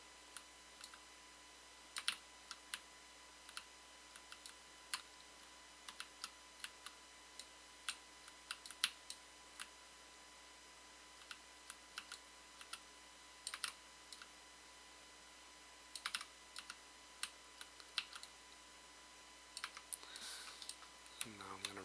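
Computer keyboard arrow keys are tapped in scattered single presses and quick short runs, crisp and close against a quiet, faint electrical hum.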